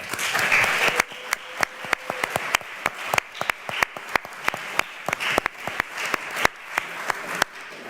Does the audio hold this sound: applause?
yes